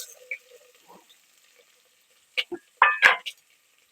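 Dried red chillies, curry leaves and onion dropped into hot oil for a beef chukka varuval, giving a faint sizzle followed by a few short, louder crackling bursts near the end.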